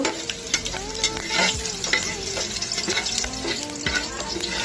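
Spices fry and are stirred in a pan in a home kitchen, with continuous close sizzling, frequent scraping and clattering of a spoon against the pan, and a faint running-water wash in the background.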